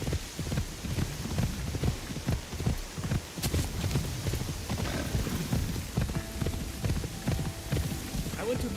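Horse hooves clip-clopping in a video game, a steady run of soft, fairly close hoof knocks over a rumbling, rain-like ambient wash, with a voice talking intermittently over it.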